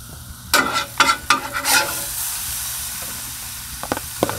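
Onions hit a hot 22-inch Blackstone griddle with bursts of loud sizzling and scraping as they are stirred, settling into a steady hiss with a few light spatula taps toward the end.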